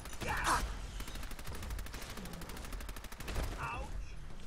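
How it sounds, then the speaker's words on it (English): Gunfire in the video game Fallout 4, a burst of distant shots with sharp cracks near the start and again toward the end, over a steady noisy background, no talking. "Am I moving in the right direction for the gunfire?"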